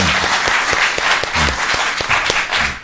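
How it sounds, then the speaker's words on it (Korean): An audience at an economic policy lecture and forum claps for the former prime minister, a dense, steady wash of applause from many hands that fills the room throughout. "총리님께 다시 한번 큰 감사의 박수 부탁드리겠습니다"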